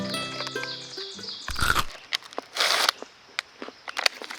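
Crunchy chips being chewed in a few loud bursts, with crisp crackling bites and brief pauses between, close to the mic.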